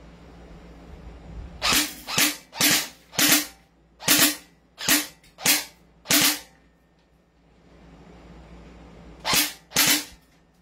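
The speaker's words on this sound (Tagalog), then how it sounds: "Try the rapid fire, sir." A Lonex L4 airsoft rifle fires on rapid fire in short sharp bursts, a cluster of eight quick cracking shots followed after a pause by two more, loud and close with no talk.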